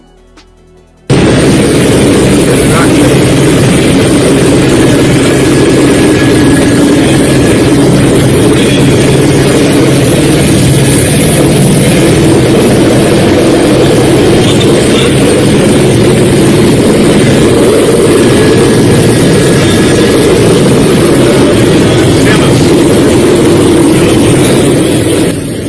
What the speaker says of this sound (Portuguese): vemos aí helicópteros, não é? Aí socorrendo pessoas vítimas